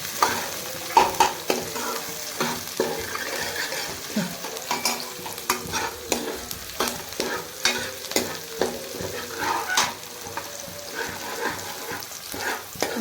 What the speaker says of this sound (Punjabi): ਲੋ ਜੀ ਤੜਕਾ ਲਾਈਏ ਆਪਾਂ